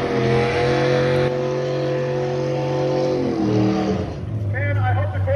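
Race cars at a drag race, a Corvette among them, drone with loud sustained engine tones that shift pitch as they pass, and another car is heard farther off.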